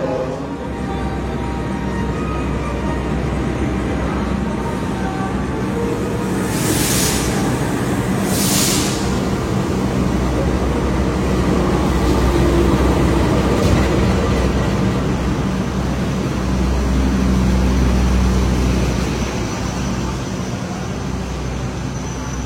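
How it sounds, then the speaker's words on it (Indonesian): Gajayana passenger train rolling into Purwokerto station, a steady broad rumble of wheels and carriages running continuously at close range, with a few brief high squeals of brakes or rails partway through. "perjalanan kereta api Gajayana yang saya naiki kini telah tiba di stasiun Purwokerto"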